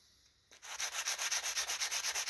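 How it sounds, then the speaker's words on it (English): Steady, rapid sanding strokes with a sanding block on protruding guitar fret ends, close and loud, starting abruptly after a brief quiet moment and continuing in an even rhythm. "I think we can probably just use a sanding block"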